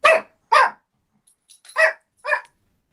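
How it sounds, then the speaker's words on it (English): A dog barks up close in a loud, distinct series of four or five separate woofs with short gaps between them and near silence around them. "I got Grizzly's bark of approval"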